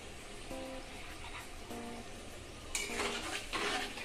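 Food with black sauce stirred in a pan, soft scraping and light clinks over a low sizzle, growing busier near the end, close and without talking.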